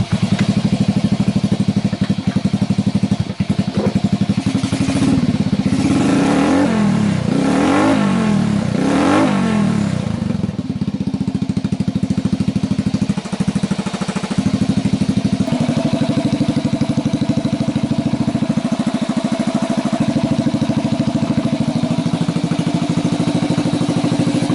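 A Honda Cub C65 motorcycle engine fitted with a custom exhaust runs loud and close throughout, revving up and down in repeated swells in the middle before settling back to a steady idle.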